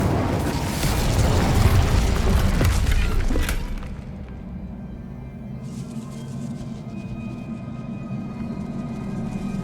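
Incendio fire spell cast in Hogwarts Legacy video game, a loud roaring whoosh and rumble of flame for a few seconds that cuts off, then a lower lingering crackle and ambient hum.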